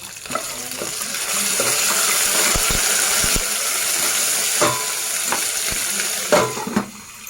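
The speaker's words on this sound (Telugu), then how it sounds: "పోపు అయితే అయిపోయిందండి" Spices crackle and sizzle in hot oil, a tempering of garlic, mustard seeds, cumin, curry leaves and dried red chillies, a continuous frying hiss with a few clinks and knocks of utensils, no talking.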